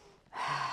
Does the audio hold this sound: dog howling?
no